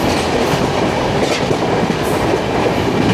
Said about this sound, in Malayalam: ഇതാ വരുന്ന ഇൻ്റർസിറ്റി